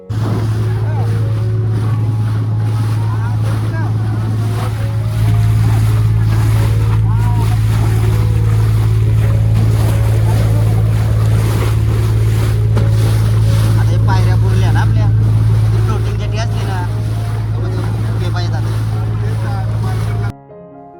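A boat's engine drones loudly and steadily across the open sea between Morave jetty and a Ganesh temple, with wind buffeting the microphone and waves splashing throughout.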